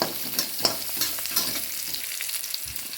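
Ginger frying in a pan for a green masala fish dish, a steady bright sizzle with light stirring scrapes, close and continuous throughout.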